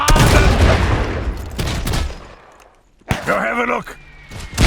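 Gunfire and battlefield blasts from the video game Iron Harvest, dense and loud in the opening seconds, then fading before a sharp burst, with a voice barking an order over the din.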